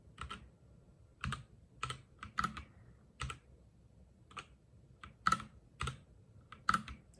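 Keys clack on a Durogod wireless keyboard in irregular short bursts of crisp close strokes, separated by brief quiet pauses.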